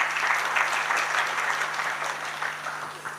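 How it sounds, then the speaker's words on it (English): Conference audience applauding Dr. Manasseh after closing remarks, a steady dense wash of clapping throughout, fairly close and even, with a faint hum beneath. "Another round of applause for Dr."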